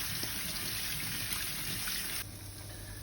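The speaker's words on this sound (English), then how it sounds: "Give them a rinse." Chickpeas being rinsed under a running tap, a soft steady trickle and splash of water that drops slightly quieter near the end.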